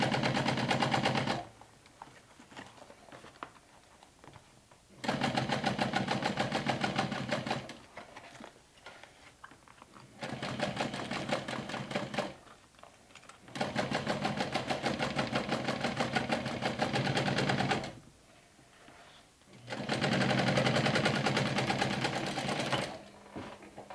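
Domestic sewing machine top stitching on a mini backpack with rainbow thread, running in four loud, steady bursts of rapid needle chatter separated by short quiet pauses.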